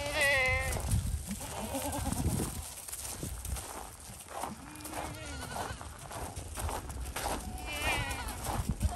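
Several goats bleat near and far on a cold farm, with wavering cries at the start and end over shuffling hooves and ambient noise.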